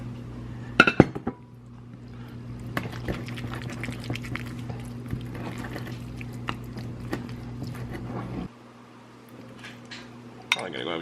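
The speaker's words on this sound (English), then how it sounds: "As you stir, the figs kind of break up into the mixture a good bit." A spoon stirs a thick fig sauce in a pan, with a few sharp clinks early on and soft scraping over a steady low kitchen hum that suddenly drops away near the end.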